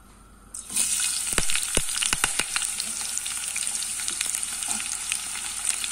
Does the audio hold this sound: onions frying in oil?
yes